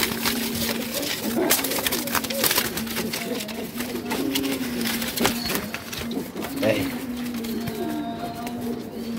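Pigeons coo in a loft, soft repeated rolling coos in the background beneath someone speaking close by.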